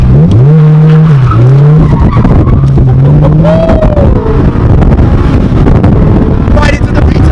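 Tires on a Mitsubishi Evo X squeal in long wavering tones during a U-turn, loud and close over a rumbling engine and wind buffeting, fading into road roar.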